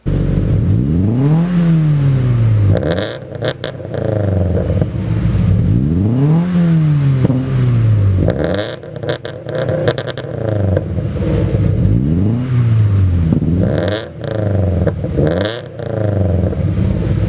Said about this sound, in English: a BRZ with a stock equal length header versus a BRZ with an unequal length header